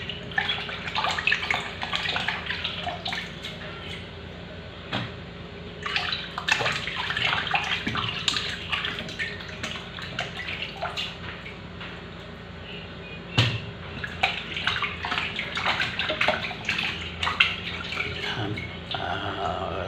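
Food being washed piece by piece under a running tap in a home kitchen sink: steady water flow with splashes, clatters and handling noises coming and going, close and fairly loud throughout.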